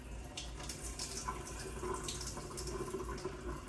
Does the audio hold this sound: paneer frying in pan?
no